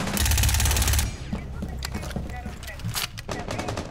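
Rapid gunfire through a window in Rainbow Six Siege, a loud burst of close shots at the start, then scattered shots and crackling with a player talking.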